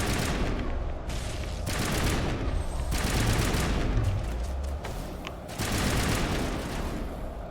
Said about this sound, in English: Gotta love explosive rounds.